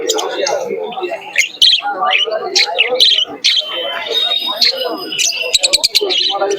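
Many birds, pigeons among them, chirp and tweet in a busy, overlapping chorus at a bird market, with people talking nearby throughout.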